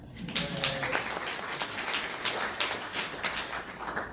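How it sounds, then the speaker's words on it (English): Audience applause at a North Fresno Rotary meeting for someone who just shared, a moderate, somewhat distant wash of clapping that continues steadily without talk. "Oh, we didn't give a round of applause for them."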